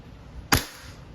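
One crisp snapping shot from a WE Hi-Capa T-Rex airsoft pistol, close and sharp, fading quickly into a quiet room.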